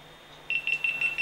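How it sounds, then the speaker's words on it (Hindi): GoPro Hero 9 camera beeping as it switches off: a rapid run of about six short, high, thin electronic beeps starting halfway through, close and clear over a faint steady hum, no talk. "बंद होते समय ये कुछ इस तरह से बीप करता है।"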